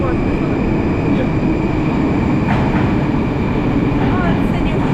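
A Moscow Metro train fills the space with a steady, loud underground rumble and rail roar that holds unbroken from start to finish, with faint voices beneath it.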